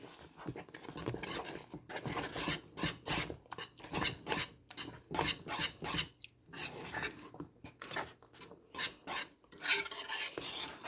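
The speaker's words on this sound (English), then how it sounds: "So I use this cheese and use my grater." Cheddar cheese rubbed over a metal grater in a home kitchen, giving a run of quick rasping strokes in an uneven rhythm with short pauses, close and moderately loud, with no talking.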